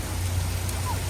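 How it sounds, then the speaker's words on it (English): Heavy rain with falling ice pelts down in a steady, dense wash of noise, close and continuous throughout the short stretch, with no voices over it. "It's raining a lot."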